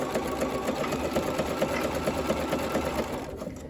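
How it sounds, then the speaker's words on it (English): A sewing machine stitches gently over the metal nose piece of a pleated cloth face mask, a close, continuous rapid needle rhythm lasting a few seconds with no voices. "sew over the top gently, carefully, so you don't break your needle and you still catch that nose piece"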